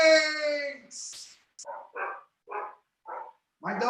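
Dogs bark in short, spaced bursts, about five yelps at a steady pace after a stretch of harmonic whining or howl-like tone, fairly close and with no talk over them.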